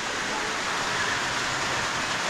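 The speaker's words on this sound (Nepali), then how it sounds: "पानी जोड पर्नु थाल्यो यार" Heavy rain falls on a Nepali village home during rice-planting season, a loud, dense, unbroken roar with no voices over it.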